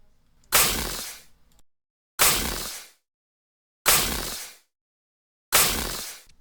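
A snare pattern programmed in FL Studio for a beat: four loud, evenly spaced hits, each a sharp crack with a long noisy tail that decays over nearly a second, separated by clean silence.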